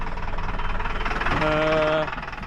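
A steady tractor engine rumble runs throughout, with a brief harmonic whine rising over it midway before fading, mixed with faint voices in the background.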